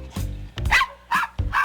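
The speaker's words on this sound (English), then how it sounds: "The windshield wipers sure seem to be making this dog angry." A dog barking angrily at moving windshield wipers inside a vehicle, four loud, close, gruff barks in an uneven rhythm with short pauses between them.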